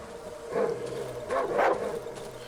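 A dog in the survival horror game Darkwood barks a few times in two short bursts, moderately near, over a low ambient game backdrop.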